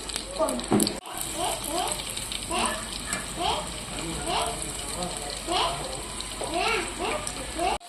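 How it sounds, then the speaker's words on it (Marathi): Sweet corn kernels frying in a pan on a medium flame, a steady hissing sizzle running throughout beneath a person talking. "स्वीट कॉर्न आपल्याला मीडियम फ्लेमवर फ्राय करून घ्यायचे आहेत"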